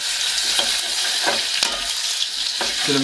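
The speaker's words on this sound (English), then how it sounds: "Now the garlic is infusing into the hot oil and the mustard seeds." Six garlic cloves with mustard seeds frying in hot oil for a chickpea and spinach vegan curry, a loud, dense, continuous sizzle up close with occasional stirring scrapes.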